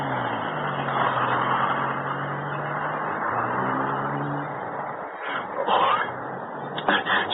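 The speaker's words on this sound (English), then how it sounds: "There's Hicks' car turning the corner." A car drives past and swings around a corner, its engine humming steadily and rising slightly before a few sharp knocks near the end, heard at moderate distance without talk.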